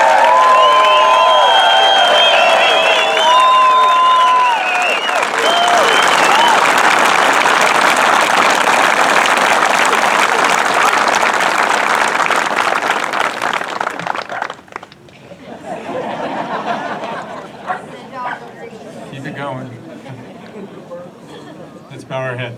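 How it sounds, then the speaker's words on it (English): Outdoor welcome ceremony for Honor Flight veterans, a large crowd cheering and applauding with whistles and shouts in a loud, sustained roar for about fifteen seconds, then fading to lighter scattered clapping and murmuring voices. "Hold nothing back in appreciation and applause"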